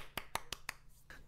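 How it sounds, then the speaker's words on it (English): Four soft, sharp claps in quick even succession, then a fainter fifth, a quiet mock golf clap alone in a close setting. "Golf clap."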